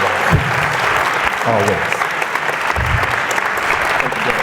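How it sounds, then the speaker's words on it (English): Audience applause at a church gathering, a steady wash of clapping across the whole stretch with a few voices speaking briefly over it. "let's give a full round of applause"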